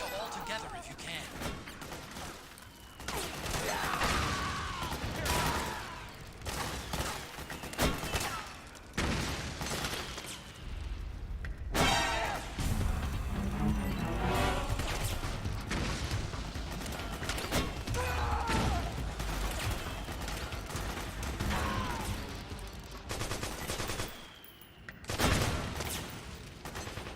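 Video game gunfire from a striker enemy, dense bursts and volleys of shots with booms and crashes running nearly throughout, loud and continuous, mixed with a voice speaking over the action.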